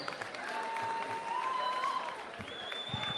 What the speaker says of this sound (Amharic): የታለ ለረቢቅ እስቲ ሞቅ ያለ ጭብጨባ።